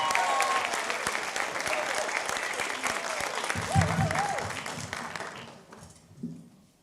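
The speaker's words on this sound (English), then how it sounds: "Let's please give her a round of applause." An audience at a primary school jazz band concert claps warmly and continuously, a busy spread of applause with some cheering voices, gradually fading toward the end as a few low sounds and murmurs come through.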